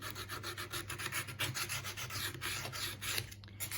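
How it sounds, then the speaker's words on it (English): Fine sandpaper rubbed by hand over a filled 1960s sun-ray mirror frame, a close, continuous rasping scrape in quick back-and-forth strokes with no talk. "I'm just going to use some fine sandpaper over the top to make it smooth"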